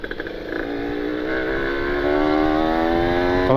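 A Kawasaki Ninja two-stroke motorcycle with a carburetor engine revs loudly and close, its pitch climbing steadily through one sustained rising pull.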